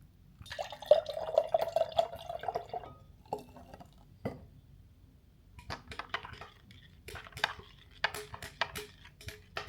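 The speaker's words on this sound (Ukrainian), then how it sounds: "Тепер я можу долити ще трошки водички." Water trickles and drips into a glass, with a brief steady pour early on followed by scattered small splashes and drips.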